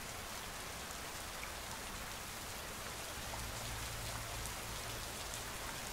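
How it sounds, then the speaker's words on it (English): Steady rain patters on the ground and surrounding rock, a dense, even hiss of drops with occasional sharper splashes, fairly soft, with no voices. "Each raindrop is unique, as is the noise it makes when it reaches the ground."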